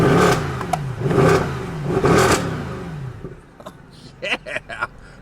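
Three loud, close revs from a custom-tuned Mercedes C63 on its stock exhaust, each rising and falling in even succession, followed by a quieter idle with short bursts.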